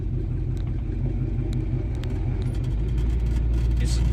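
A low, steady 1984 GMC Sierra Classic pickup engine rumble nearby, the manual-transmission truck reversing, that sags slightly partway through, lugging at low revs without cutting out.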